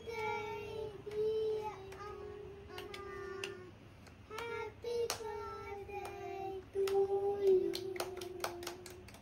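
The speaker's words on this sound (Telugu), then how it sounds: "మీరు చప్పట్లు కొట్టండి అమ్మా, క్లాప్స్" Hands clapping at a family birthday celebration at home, a run of sharp claps in bursts alongside a sustained tonal hum, with voices speaking around it.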